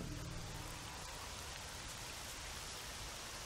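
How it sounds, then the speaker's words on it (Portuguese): Steady rain falls continuously in the Stalker game's Autumn Aurora mod, a dense even hiss of drops on surfaces at a moderate, unchanging level, with no talk. "É um local que tá quase sempre chovendo."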